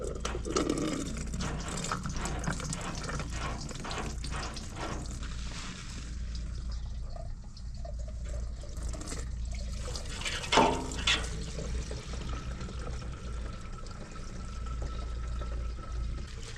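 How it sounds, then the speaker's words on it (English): Red diesel drains from the fuel tank of a 1971 Soviet KrAZ-255 military truck in a steady trickling pour with dripping, over a low background hum. "I think just in case though, we should drain the fuel tank."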